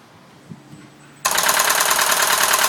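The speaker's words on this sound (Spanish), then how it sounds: "Inicialmente se va a escuchar un ruido, el ruido de los elevadores de válvula, porque son hidráulicos." A machine on a test rig starts up with hydraulic valve lifters: a quiet stretch with a small knock, then an abrupt loud, steady broadband clatter and roar kicks in and holds.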